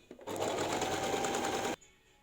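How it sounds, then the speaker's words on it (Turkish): A sewing machine runs in one steady, close burst of stitching for about a second and a half, sewing along a drawn line on a zippered cushion, then stops. "Ve burayı yani çizdiğim çizgiyi dikiyorum."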